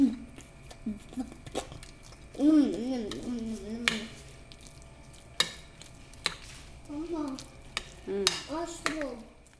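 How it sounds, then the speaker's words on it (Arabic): A potato mixture being stirred with eggs and grated cheese for a baked potato dish, giving soft scraping and clinking strokes in bursts, with a few louder knocks of utensil against bowl, close and moderately quiet. "غادي يخلطها مع البيض ومن بعد غيزيد عليها هكا الفرماج محكوك"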